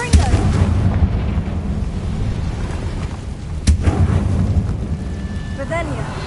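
Confringo blasting spell explodes in the Hogwarts Legacy video game, a sharp, loud blast partway through over a dense rumbling game soundscape, with a voice speaking.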